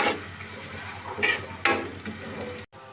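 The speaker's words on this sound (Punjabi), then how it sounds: "ਪਿਆਜ਼ ਨੂੰ ਆਪਾਂ ਚੰਗੀ ਤਰ੍ਹਾਂ ਭੁੰਨ ਲਵਾਂਗੇ" Onions being roasted in a pan and stirred, with soft scraping and rustling strokes, a few sharper bursts of sizzle and a clink of utensil against metal, close and moderately loud.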